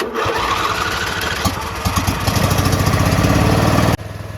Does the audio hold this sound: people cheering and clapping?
no